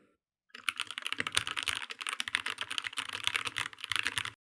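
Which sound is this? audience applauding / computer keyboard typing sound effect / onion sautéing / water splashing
computer keyboard typing sound effect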